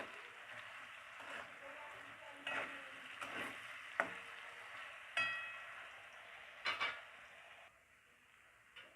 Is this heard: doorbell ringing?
no